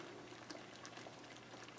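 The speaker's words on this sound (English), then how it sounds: "So it's boiling a little bit more vigorously, but temperature has not hit the magic number yet." Peanut butter fudge mixture boiling in a pot on the stove, heading toward softball stage: a faint, steady bubbling hiss with soft pops scattered through, heard alone.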